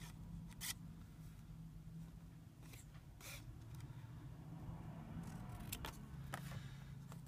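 Paper for a junk journal tag being cut at an angle with scissors: a few faint, scattered snips over a steady low room hum, with no talking.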